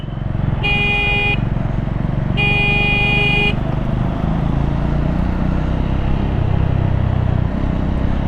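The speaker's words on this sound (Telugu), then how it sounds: "హైదరాబాద్ ట్రాఫిక్ వేరేలా ఉంటుంది." Hyderabad city road traffic rumbles with dense engine noise, and a vehicle horn sounds twice in two long, loud blasts near the start before the steady traffic roar continues alone.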